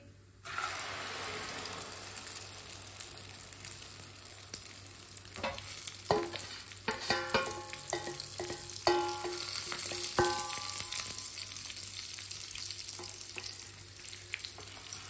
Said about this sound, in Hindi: अंडों को अच्छी तरह मिक्स करते हुए पका लेंगे।